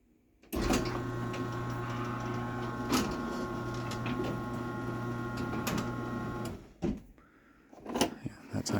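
A LiftMaster 8355W garage door opener drives a small mini door upward with a steady, close mechanical hum and whir, with light clicks, then stops and is followed by a few brief knocks.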